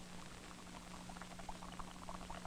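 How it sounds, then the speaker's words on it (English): Water boils in a paper cup held over a candle flame, giving faint irregular bubbling and pattering over a steady low hum, quiet and close. "and the water soon starts to boil"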